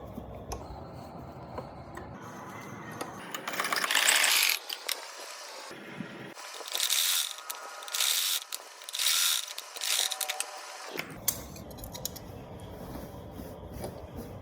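Bursts of sewing machine stitching on a kurti, short runs of rapid mechanical clatter stopping and starting, close and alone with no talk.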